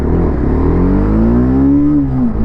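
A 2025 TVS Apache RR310 race-style motorcycle with trellis frame accelerating hard, its engine note climbing steadily in pitch as it pulls through a gear, loud and close with constant wind roar.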